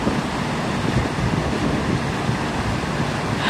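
An outdoor fountain in New York City on a freezing winter day gives off a steady, dense rush of splashing water that stays loud and unbroken throughout, with some wind buffeting the microphone.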